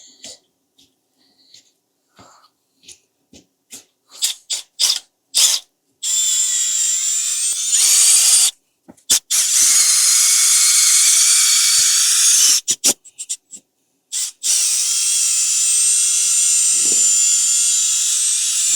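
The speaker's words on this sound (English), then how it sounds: "you can see this auger draws the perlite up to the top fairly easily without causing a whole bunch of dust" A drill-driven auger stirs perlite for a seed starting mix. A few short bursts of high whirring come first, then longer sustained runs of loud spinning broken by brief stops.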